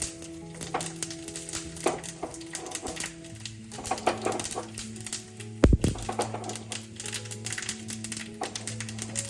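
Mustard seeds spluttering in hot oil for Malabar-style sambar, with a dried red chilli dropped in: a steady crackle of small pops and sizzle with a sharper burst near the middle, heard close and fairly quiet.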